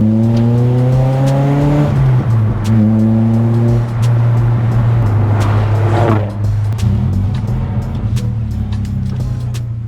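A Nissan SSS Pulsar drives hard on twisty roads, its engine revving up and down through gear changes, loud and close from inside the car, with rising pitch sweeps between shifts.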